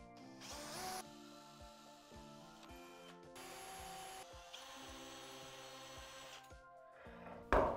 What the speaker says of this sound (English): I'm going to use a really tiny drill bit on both of these spots